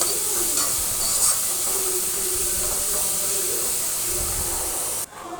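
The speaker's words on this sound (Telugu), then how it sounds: "ఆ పచ్చి వాసన పోయేంత వరకు బాగా ఫ్రై చేసుకోవాలి." Masala paste sizzles and hisses steadily in a hot pan for lemon rice, a continuous close frying sound with faint stirring scrapes, cutting off abruptly near the end.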